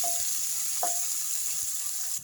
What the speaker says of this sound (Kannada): ಈಗ ಈರುಳ್ಳಿ ಮತ್ತು ಟೊಮೆಟೊ ಚೆನ್ನಾಗಿ ಫ್ರೈ ಆಗಿದೆ